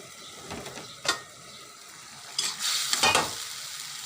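Chicken breast pieces being stirred in a pan, a spoon scraping and clinking against the metal in a few distinct strokes over a soft background sizzle, close and moderately loud, with no talking.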